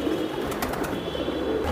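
Pigeons at a farm coo steadily in a soft, continuous low burble, with a few brief rustles or wing sounds mixed in.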